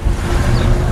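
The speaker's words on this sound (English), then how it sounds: "if you hear any wind outside, it's because I'm outside." Wind blowing outdoors, a steady low rumbling buffet against the microphone, loud and continuous with no voices over it.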